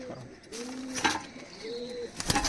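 Oman Teddy pigeons coo in soft, repeated low phrases, close by, with a few brief sharper bursts of other noise in between.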